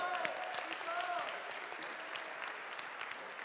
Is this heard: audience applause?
yes